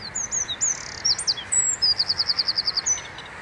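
A wren sings from a bush top outdoors in springtime: a few quick chirps, then a fast, even trill of bright repeated notes, clear and fairly close over faint background hiss.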